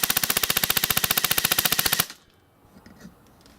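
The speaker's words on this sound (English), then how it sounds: "Let's check out the rate of fire." A Classic Army Scarab airsoft gun fires full auto in a fast, steady burst of about two seconds. The shots are loud and close, and the burst cuts off to quiet room tone.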